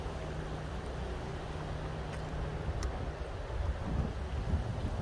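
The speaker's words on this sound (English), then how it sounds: "got a little bit of wind here." Wind blows outdoors along the Yakima River among leafy trees, a steady low rumbling buffet on the microphone with gusts swelling slightly louder toward the end, no voices.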